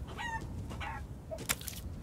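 Chicken in the video game Resident Evil Village, a few short clucks and squawks close by against a low rumble, no speech.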